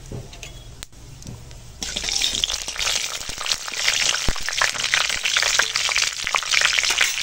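Panch phoron spices, bay leaf and dried chili dropped into hot oil in a kadai: a quiet start, then a sudden loud, crackling sizzle that stays strong and steady for several seconds.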